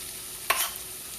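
Rice pilaf stirred and fried in a hot pan for fried rice, giving one short scraping, sizzling burst over a quiet background, with no talking.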